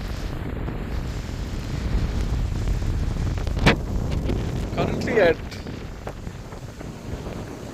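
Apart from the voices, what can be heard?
strong wind on microphone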